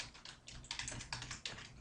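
Rapid typing on a computer keyboard while entering text in the vi editor on Linux, quick clustered clicks in short bursts, close and fairly quiet, no talk.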